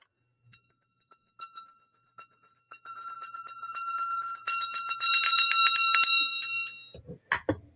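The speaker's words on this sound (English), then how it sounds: "I'm trying not to ring the bell too loud because I know people have headaches." A small bell rings repeatedly with bright metallic tones, starting as scattered light strikes and building into a denser, louder ringing that lingers before fading, followed by a few brief clinks.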